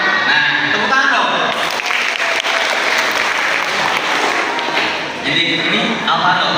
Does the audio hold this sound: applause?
yes